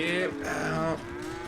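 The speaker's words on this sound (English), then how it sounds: "Alright now, cows, bulls, get up" Cattle in the video game Red Dead Redemption 2 give a single loud, close moo lasting about a second, followed by a quieter low tail with no talking.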